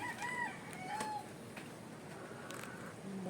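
Chickens and roosters by a hut make a few clear crowing and clucking calls early on, fading into quieter farmyard background.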